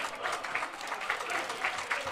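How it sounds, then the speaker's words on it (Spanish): Steady applause from a football crowd at a Bilbao Athletic versus UD Logroñés Segunda Federación match, clapping for both teams, a dense continuous patter of hands with some faint crowd voices mixed in. "Aplausos para ambos equipos."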